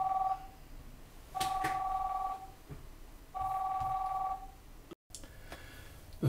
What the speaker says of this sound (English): Before the phone rang